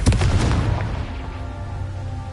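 A Confringo fire-blast spell in Hogwarts Legacy goes off as a loud, booming burst, then rumbles and decays over a couple of seconds.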